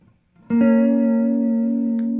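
A single sustained electric guitar chord played through an overdrive pedal rings out with a gritty overdriven tone and holds, slowly decaying, with no other sounds.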